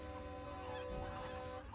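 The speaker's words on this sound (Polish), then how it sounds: "O, tu jakaś kura biega, ale fajna kura." A chicken character runs around in the video game Stumble Guys, giving off fowl-like, honking calls over a busy bed of game sounds, with no speech.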